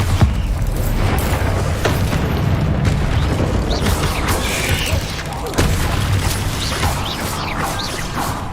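Thunderous Bombarda spell blasts in Hogwarts Legacy burst through a dense, continuous wash of magical combat noise, with several sharp booms and crashes standing out over a constant low rumble.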